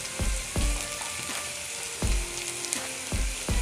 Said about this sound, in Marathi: कांदा ना लालसर होईतर पण भाजून घ्यायचा आपल्याला असा.